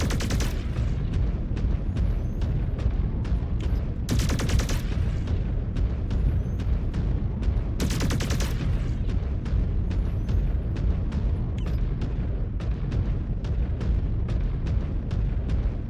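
Mech weapons firing in Mechwarrior 5: Clans, a long run of regularly spaced heavy booming shots with two brief bright bursts, loud and relentless throughout, with no talking.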